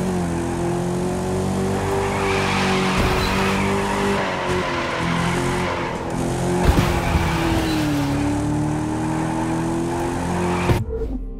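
A Camaro drifts in the racing game The Crew 2, its engine holding a steady loud drone with long tire squeal running throughout, pitch dipping briefly before a sharp cut at the end.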